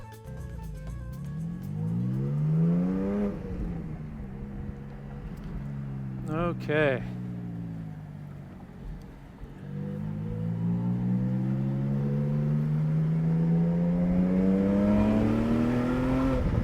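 A 414-horsepower sports car with a manual gearbox accelerates hard on a track lap, its engine note climbing steadily through the gears with a brief shift break, loud and sustained, with a short spoken word over it.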